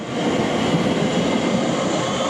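A train departs Elmstead Woods station toward the tunnel, a close, loud steady rumble of wheels and carriages rolling past with a faint rail squeal.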